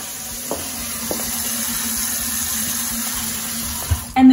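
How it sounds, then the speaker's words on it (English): A kitchen faucet runs as a steady broadband hiss of flowing water, with a few faint clicks and a louder thump at the end. "Come check out the water pressure."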